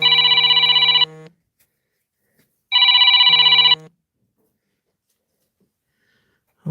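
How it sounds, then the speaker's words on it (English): A telephone rings in two long electronic bursts about a second each, separated by a pause of roughly a second and a half, loud and close in an otherwise quiet room. "People phoning me and everything."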